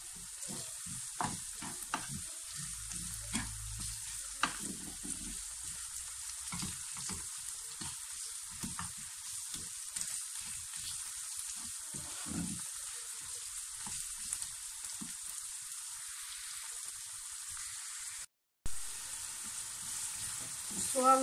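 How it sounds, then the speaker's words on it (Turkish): Onions frying in a pan for spinach börek filling, a soft steady sizzle with scattered crackles and occasional stirring scrapes, fairly quiet, with a short dropout near the end. "Soğanlarımız kavruldu."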